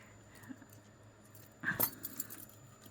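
Antique bronze chain jangles briefly as it is handled, a short metallic rattle rising out of a quiet room, close and moderately loud.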